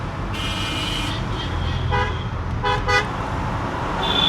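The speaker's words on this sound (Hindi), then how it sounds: "अभी कोई हॉर्न बजाएगा तो पता चलेगा आपको।" Car horns toot several times amid traffic, heard from inside an electric luxury car: short honks at moderate distance over the low rumble of engines on the road.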